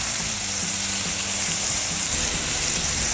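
Bacon cheese smash burger patties frying on a Blackstone griddle give a loud, steady, close sizzle that runs unbroken throughout, with faint scraping underneath.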